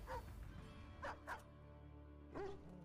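Dog units in the real-time strategy game Stormgate let out a few short, quiet barks and yips in separate bursts, with a low game hum running beneath.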